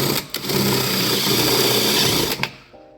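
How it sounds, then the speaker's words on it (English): A power drill whirs steadily for about two seconds drilling a hole for a rivnut in a Ford Focus, with brief clicks at the start and a spin-down at the end. "So basically, you drill a hole."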